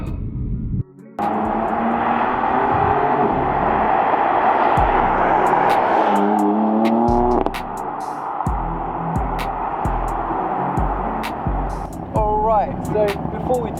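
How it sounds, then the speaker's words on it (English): A BMW with its stock exhaust passes by outside: engine rumble rises and fades over several passes, with a speaker talking over parts of it. "I'll give you some flybys of how this car sounds like from the outside"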